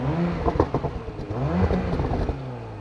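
A 2020 Porsche Macan S engine without sport exhaust revs up twice, rising and falling in pitch with a throaty exhaust rumble, close by.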